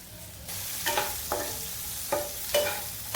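Chopped tomatoes hit hot oil and fry with a steady broadband sizzle, broken by a handful of sharp scraping stirs of a spatula against the pan.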